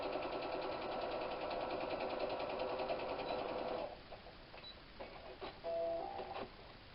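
Sewing machine stitching a quarter-inch quilt seam on a log cabin block, a steady rapid mechanical whirring for about four seconds that stops, followed by quieter handling noises and a short whine.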